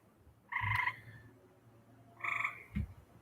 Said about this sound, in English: Now I got tree frogs doing surround sound around me.